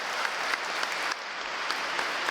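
A church congregation applauds during a Catholic homily, a steady dense clapping that fills the whole stretch at even loudness with no voice over it.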